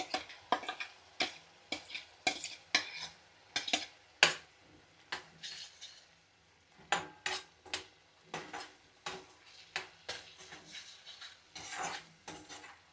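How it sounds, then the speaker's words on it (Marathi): Tomato puree masala stirred in oil in a pan over medium heat, with repeated close spoon scrapes and clinks against the pan in an uneven rhythm, under a faint sizzle and no talking. "प्युरी घालून आपण हे चांगलं तळून घ्यायचा हा मसाला, म्हणजे तेल सुटेपर्यंत आपण एक 5 मिनिट चांगलं परतवून घ्यायचं असं तेलात, मध्यम गॅसवर"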